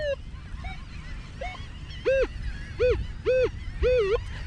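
A Minelab X-Terra Pro metal detector sounds short, warbling pinpoint tones that repeat several times and grow stronger toward the end, heard close over faint outdoor background noise.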